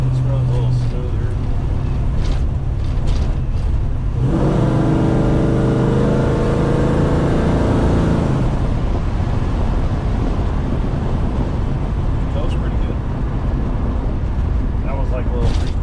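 A 1967 Chevelle engine pulls at three-quarter throttle while driving on a smooth road, a steady loud drone with a rising harmonic band in the middle, wind and road noise throughout.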